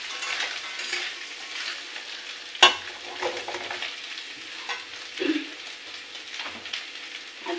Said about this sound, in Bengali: আর একটু ভালো করে নাড়াচাড়া দিয়ে দিচ্ছি।